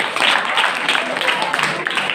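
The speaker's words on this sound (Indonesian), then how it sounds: "Berikan tepuk tangan yang meriah" Steady, dense audience applause filling the room at a school organisation's candidate speech event, with a voice speaking over the clapping throughout.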